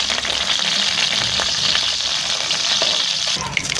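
Urad dal and mustard seeds fry in hot oil with a dense, steady, close sizzle and fine crackling that holds evenly throughout, with no one talking.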